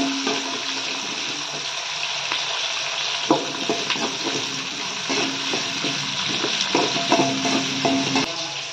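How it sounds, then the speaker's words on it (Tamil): Small onions sauté in oil for a rock fish curry, a steady close sizzle broken by frequent clinks and scrapes of a spoon stirring the pan. "நல்லா சவரட்டு வெங்காயம்"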